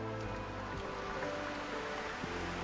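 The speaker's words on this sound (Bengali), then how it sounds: "আর বৃষ্টি হইতেছে, প্রচুর বৃষ্টি হইতেছে সকাল থেকেই।" Heavy rain falls in the Bandarban hills, a dense, steady wash of noise with a low hum beneath it, and no voices.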